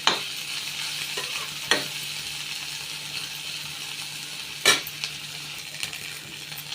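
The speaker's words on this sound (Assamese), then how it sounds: "এয়া ভাজালৈ, মাছটো ভাজা হোৱালৈ পিঁয়াজখিনি নিজে ভাজা হৈ যাব।" Khagoror fish and onion fry together in a pan, giving a low continuous sizzle broken by a few sharp metallic clinks and scrapes of a spatula against the pan, with no voices.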